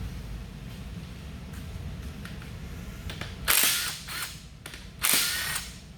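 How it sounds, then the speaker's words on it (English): An impact gun strikes vacuum-sealed parts of a Scion FA20 engine, producing two loud, sharp bursts of rattling hammer blows near the end, each followed by lighter taps, over a quiet workshop hum. "Funny when you hit these with a gun like that, you can hear them pop."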